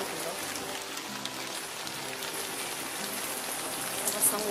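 Heavy rain pours steadily and loudly, a dense unbroken wash of drops beating on a surface, close by and alone throughout.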